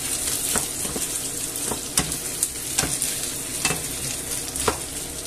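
Sausages and peas sizzle steadily in a hot pan, with a spoon scraping and stirring at irregular intervals; close and fairly loud, no talking.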